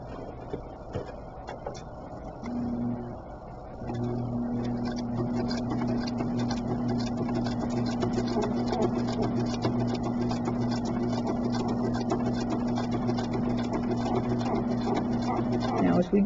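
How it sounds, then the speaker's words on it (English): A sewing machine stitches a seam through a pieced quilt block made with foundation paper piecing, a steady fast mechanical whir and rapid ticking that starts, briefly pauses, then runs continuously and loud. "now back to the sewing machine"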